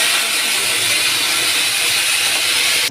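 Potato, tomato and drumstick curry poured into hot oil with fried garlic, giving a loud, steady, continuous sizzle and hiss that fills the whole stretch before cutting off abruptly at the end.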